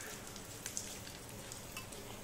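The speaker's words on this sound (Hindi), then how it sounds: "राई सब तड़क चुकी है।" Dense, steady crackling and sizzling of mustard seeds and chillies popping in hot oil for a tempering, with a few sharper pops standing out, close and moderately loud.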